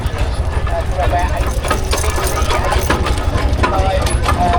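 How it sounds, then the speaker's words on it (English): A 1931 Aveling and Porter steamroller running in a showground arena, a steady loud low-pitched mechanical chug with busy rattling overtones, continuous throughout. "This is made by Aving and Porter in 1931. It's one of their later steamrollers."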